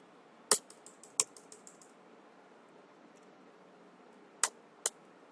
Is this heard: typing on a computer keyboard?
yes